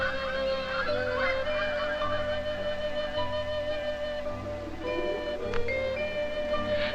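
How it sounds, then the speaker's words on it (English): Migrating birds head south in winter and call in steady, repeated honks that carry through continuously over a constant background. "Many birds have already flown south. Now the last few are on the way too."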